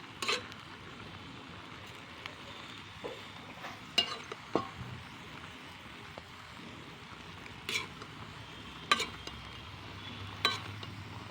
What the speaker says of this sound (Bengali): এবার আমি আবারও নাড়াচাড়া করে নেবো